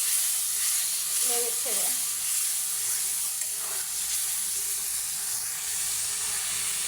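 Spice paste for Bengali beef curry with radish frying in a pan, a steady broadband sizzle and hiss throughout with brief stirring scrapes; a voice murmurs a few words early on.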